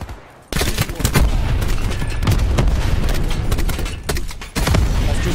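Artillery strike explosions pound down in a Black Ops 4 match: after a brief quiet start, a loud, dense barrage of booms and cracks rolls on almost nonstop, dipping briefly before another heavy volley hits.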